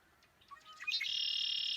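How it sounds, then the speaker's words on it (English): A red-winged blackbird calls by a marsh near a truck, a few faint short chirps followed by a sustained buzzy trill, fairly quiet against low background noise. "I think you could probably even hear the chirping of the red-winged blackbird"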